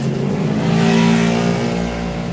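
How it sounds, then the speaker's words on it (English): Busy street traffic in Gatlinburg heard through an open car window, a steady loud engine hum with a rising rev from a nearby vehicle, continuous and close with no voices. "I open the window so you can hear the ambiance. The ambiance of Gatlinburg."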